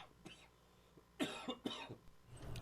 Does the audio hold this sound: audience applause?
no